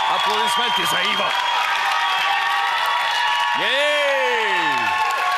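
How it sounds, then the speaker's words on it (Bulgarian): A live studio audience at a televised musical show applauds and cheers for a contestant named Ivo; continuous clapping and crowd noise carry under loud whoops, rising vocal shouts and background music. "Вашите аплодисменти за Иво!"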